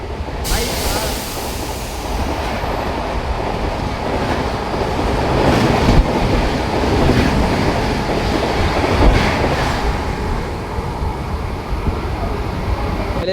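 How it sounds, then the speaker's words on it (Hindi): Ajmer Bandra Express pulling into Palghar railway station, a broad steady rumble and rattle of the train running close by, with a roar that swells near the middle and holds through the clip. "पालघर रेलवे स्टेशन पे ये अपनी अजमेर बांद्रा एक्सप्रेस आ रही है"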